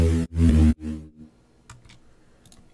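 A dry synth lead built from a pitched-up bass, played with no effects: three loud, bright harmonic notes in quick succession, the last shorter and softer, then a quiet tail with faint clicks.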